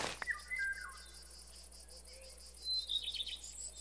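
Crickets and other insects chirp steadily in a Minecraft modpack soundscape, a thin continuous trill with a few brighter chirps drifting in and out over a low hum.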